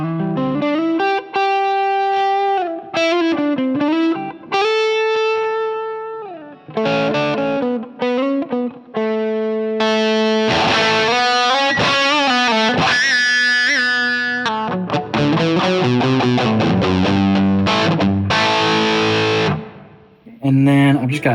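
An electric guitar runs through a Line 6 HX Stomp with three stacked high-gain distortion stages, playing loud, saturated chords and sustained riffs with sharp stops and bursts of single notes.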